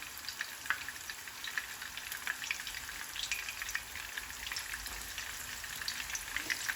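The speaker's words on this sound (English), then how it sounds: "So drop your meatballs in and let them cook." Greek meatballs (keftedes) fry in a pan with a steady, moderately quiet sizzle and scattered small pops that continue evenly throughout, with no voices over it.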